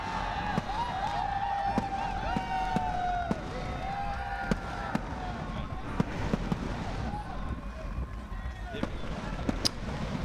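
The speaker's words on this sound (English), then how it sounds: "Look at these fantastic fireworks up above." Fireworks burst overhead at a Saurashtra Premier League cricket final in Rajkot, sharp cracks and pops repeating over a dense crowd roar and whistling, with commentators talking throughout.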